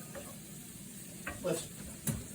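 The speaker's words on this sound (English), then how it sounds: "Let this saute a little bit more." Food sautés in a pan for chicken carbonara, giving a soft, steady sizzle with a few light scrapes and clinks from stirring near the close.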